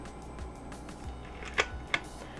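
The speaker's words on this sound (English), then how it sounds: "you push the shutter button, that opens the shutter" Two sharp mechanical clicks a fraction of a second apart, close and crisp, a Nikon F3 film camera shutter firing over a faint background hum.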